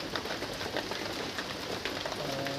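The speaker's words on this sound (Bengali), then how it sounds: "আজকে আমাদের এখানে সকাল থেকে বৃষ্টি হচ্ছে," Steady heavy rain falling outdoors, a dense continuous patter and hiss with no breaks, fairly close and even in loudness throughout.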